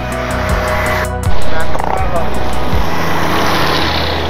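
A motorcycle fitted with a Polytron exhaust rides fast on the road, a loud, steady engine drone with wind noise and a brief surge partway through.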